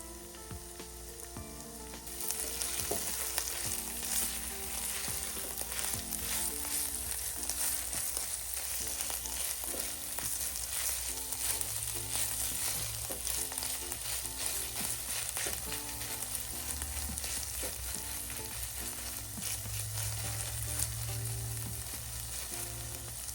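Ground beef and tomato sauce sizzle steadily in a hot pan while being stirred, a continuous loud frying hiss with scraping of the spoon throughout, no voices.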